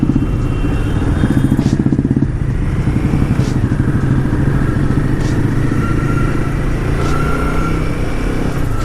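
A new Royal Enfield 450 motorcycle ridden through traffic, its engine thrumming steadily and closely under heavy wind noise, with faint clatter and passing traffic in the background.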